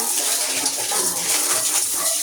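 Water gushes continuously from a broken tap, a steady hissing rush heard close up and alone.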